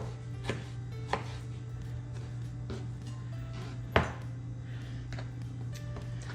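A knife chops tomatoes into chunky pieces for pico de gallo on a cutting board, a few sparse, separate thuds with a sharp louder one near the end, over a steady low hum.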